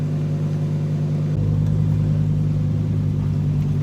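A 2020 Lamborghini Huracan Evo with its V10 engine on a drive, a steady low engine drone that deepens and grows slightly louder partway through, heard from inside the car.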